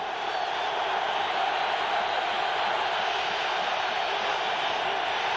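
Buffalo Bills home crowd at a 1998 NFL game against the New York Jets, a steady roaring wash of distant cheering that holds at an even level throughout without any break.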